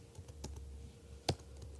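A few scattered taps on a computer keyboard as React JavaScript code is typed, faint and close, with one sharper keystroke standing out against a low steady room hum.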